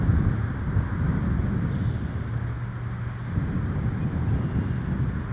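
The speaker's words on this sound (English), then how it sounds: "Nice bit of wind on this Sunday." Steady wind at Toronto Pearson Airport on a Sunday, a constant low roar and rumble of wind buffeting the microphone, loud and close with no letup and a faint hum of distant activity beneath.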